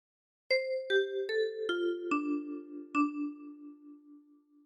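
A short phrase of the sea shanty Drunken Sailor played on a ten-key kalimba: six plucked metallic notes stepping downward, the last ones ringing longer and overlapping as they fade, clear and close with no voices.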